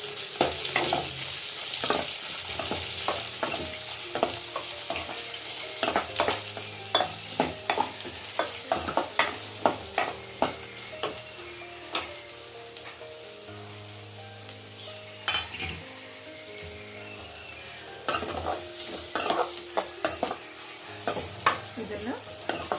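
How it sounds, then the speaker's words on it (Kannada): Onion and capsicum fry over high flame in oil left from frying paneer, for restaurant-style paneer fried rice. A steady close sizzle runs throughout, punctuated by frequent clattering scrapes of a spoon stirring in the pan, with no speech. "ಈಗ ಅದೇ ಎಣ್ಣೆಗೆ ನಾವೀಗ ಮತ್ತು ಈರುಳ್ಳಿ ಮತ್ತು ದಪ್ಪಮೆಣಸಿನ್ಕಾಯಿ ಸೇರಿಸ್ತಿದ್ದೀನಿ"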